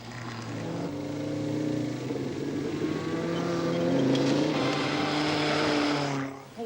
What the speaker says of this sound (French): Bernard et Claude Marot répliquent avec leur Renault 4 roues motrices et leur passion.